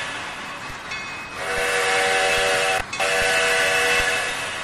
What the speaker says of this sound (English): Little skip in the whistle there.